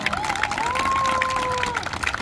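Audience clapping and cheering at a 2023 tennis event, a dense wash of applause lasting the whole moment, with a thin rising whistle-like tone running through it.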